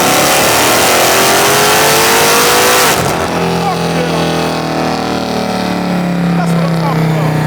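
A 1200-horsepower Hellcat Charger with the King Kong package roars at high revs on a dyno, then drops abruptly to a lower, rumbling idle-like drone, with voices talking over the engine.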